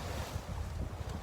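Steady wind roar rumbles across the microphone while sailing toward Trinidad, California, with a faint wash of water beneath it; no voices, just constant blustery noise.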